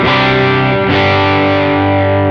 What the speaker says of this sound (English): The thing that you'll hear a lot of times with that pedal, and you know, particularly in like a rock country thing, is just big open chord.